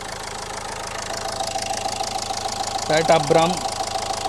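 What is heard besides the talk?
Renault Lodgy diesel engine idling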